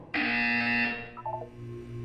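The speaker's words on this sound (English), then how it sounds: "You will hear a buzzer. When you hear the buzzer, look down at the floor." A loud, harsh buzzer from the Portal 2 video game sounds once for about a second and then cuts off, followed by a few faint electronic blips over a low background hum.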